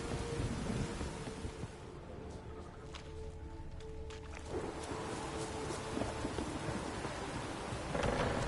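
Thunderstorm with rain in the video game Witcher 3: steady loud rain hiss with rolling thunder rumbles swelling and fading, a rougher gust of storm noise building toward the end.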